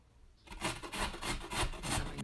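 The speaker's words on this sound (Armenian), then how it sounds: "Բոլոր բանջարեղենները քերիչով անց ենք կացնում, բացի լոլիկից։" Vegetables being grated on a hand grater for a home-cooked dish: a steady rhythmic rasping of repeated strokes, close and fairly loud, beginning after a brief quiet moment.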